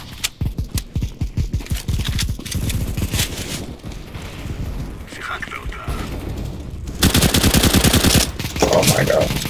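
Rapid bursts of AK rifle fire in CS:GO, a fast rattling run of shots at the start followed by denser gunfire later, with players talking over the action.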